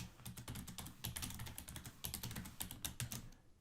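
Fingers type a new password on a computer keyboard, a quick run of sharp, close key clicks in irregular bursts with brief pauses, quiet and alone.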